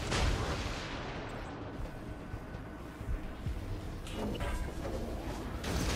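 Naval guns and torpedoes in World of Warships Legends pound a destroyer, a dense, continuous barrage of booming shots and rumbling blasts that swell and recede without pause.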